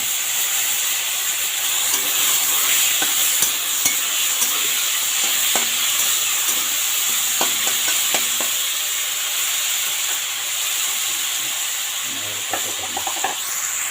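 Soaked lentils being stirred into hot oil in a pan give a steady, close sizzle and hiss, with scattered scraping clicks from the spoon throughout and a brief stronger crackle near the end.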